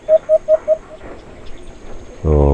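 An alimokon dove gives a short series of four or five soft, evenly spaced coos, close and clear over a quiet outdoor background, followed by a louder burst of noise.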